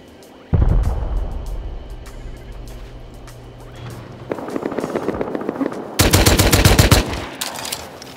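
Bursts of rapid automatic gunfire, a loud opening volley followed by quieter shots and another intense burst near the end, crisp and close.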